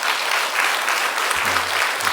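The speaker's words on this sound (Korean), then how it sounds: "여러분 축하하고 축복하는 마음으로 크게 박수 한번 해주셔요." A church congregation at a Wednesday worship service gives a sustained round of dense applause, with a brief low voice underneath near the end.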